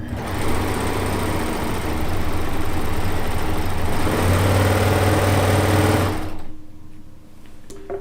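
A quilting sewing machine runs steadily at full speed through the last inches of a seam, a loud, even motor whir and needle chatter that winds down and stops near the end.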